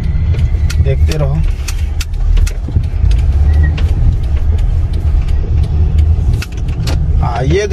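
Car driving along a road in Saudi Arabia, heard from inside as a steady engine and tyre rumble that runs throughout, with someone talking over it and faint clinks and rattles.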